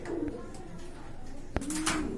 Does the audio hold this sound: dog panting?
no